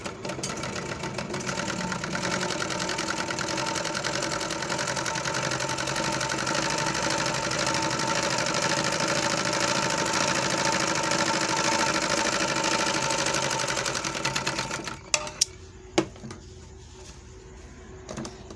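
An overlock sewing machine stitches steadily after its needle has been lowered, a continuous close mechanical whir running about fifteen seconds before stopping, followed by a few faint clicks.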